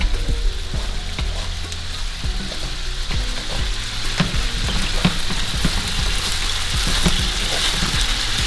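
Fried rice sizzles steadily in a hot pan, a dense continuous crackle with occasional sharper pops and stirring scrapes, close and loud, with no talking.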